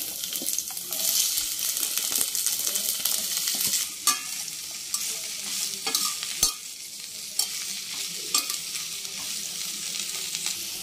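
Okra pieces (bhindi) fry in about two tablespoons of hot oil in a pan, a steady close sizzle broken by occasional sharp clinks and scrapes of stirring.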